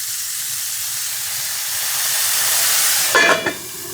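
King oyster mushrooms cooking in a pan with a splash of added water give a steady, loud steamy hiss, and a sharper sizzling burst breaks in near the end.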